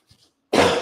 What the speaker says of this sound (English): I hope that cough didn't hit you guys in the ears too hard